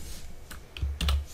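Computer keyboard typed on in a few separate keystrokes and clicks, close and fairly clear, with a soft thump underneath, no talking over it.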